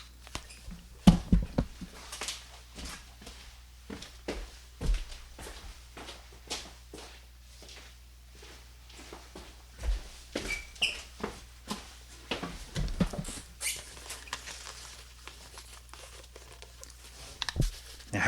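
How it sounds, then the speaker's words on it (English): Soft, scattered footsteps walk across a room, followed by crinkling and rustling as a pad of paper is picked up; the sounds are faint and intermittent, with quiet gaps between bursts. "you're going to hear me walk over and grab my pad of paper"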